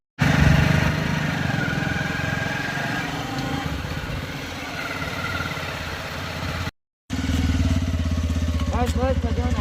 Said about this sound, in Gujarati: તમે બાઈક સાઈડમાં કરો